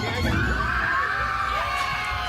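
Riders screaming on a Disneyland ride, a sustained mass of shrieks and yells from a crowd, fairly loud and continuous with rumbling ride noise beneath.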